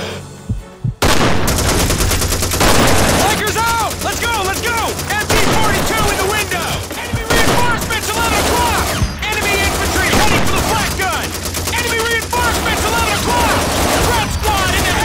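Dense gunfire and suppressing fire from Call of Duty 2's American campaign, with rapid bursts crackling almost nonstop and loud and close; a shouted voice and mission music are mixed in beneath the shooting.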